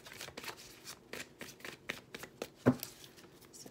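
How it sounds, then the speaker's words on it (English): A thin-stock Vertigo Tarot deck is riffled and bridged in a series of quick, crisp card flutters with one sharper snap near the end, close up and with no talking. "I just absolutely love shuffling the Vertigo Tarot."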